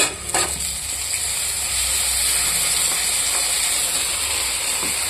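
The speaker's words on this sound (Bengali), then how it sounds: "মশলাটা ভালো করে ভেজে নেব বন্ধুরা" A spice paste of ginger, garlic, green chili, cumin and garam masala fries in a pan with a steady, close hissing sizzle, opening with a short clatter of stirring.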